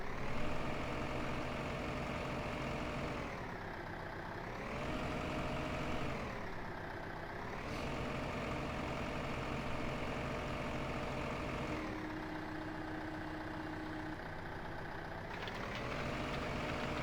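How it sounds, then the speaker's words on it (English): A small tractor engine idles steadily in Farming Simulator 15, a continuous close low rumble with a few brief dips and swells in pitch as the revs shift. "This is a good little tractor."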